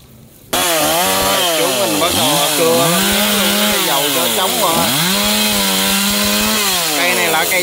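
A G4200 chainsaw cuts tree branches up close and loud, revving and dipping repeatedly as the chain bites into the wood.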